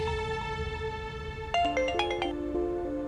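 A phone ringtone sounds loudly and clearly indoors, a melodic electronic tune of repeating chiming notes that shifts into a quicker run of tones partway through, with no voices over it.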